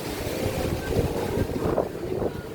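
Wind rushes steadily across the microphone, a low rumbling roar with uneven gusts throughout and no clear voices.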